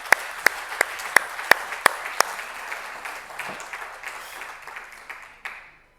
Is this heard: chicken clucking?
no